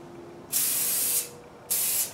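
Aerosol spray from a cheap dollar-store can used to coat an object for 3D scanning, two short hissing bursts close up, the first longer than the second, with brief quiet between.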